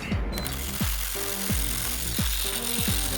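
Electric driver whirring on an ignition coil bolt of a 3.6L V6 Jeep Wrangler JK, a loud close motor tone with repeated rhythmic ratcheting pulses about twice a second.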